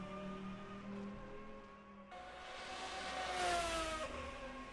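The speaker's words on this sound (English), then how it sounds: "The cars sound great, they really do." GT1 race car engines scream around Monza in a racing video game, a steady high-revving drone with shifting pitch that swells as cars close in and sweep past, continuous and loud with no talk.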